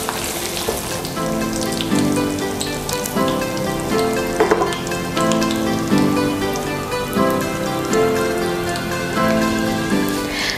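Tofu deep-frying in hot oil, a steady dense sizzling crackle like rain that holds at close range for the whole stretch, with faint music underneath.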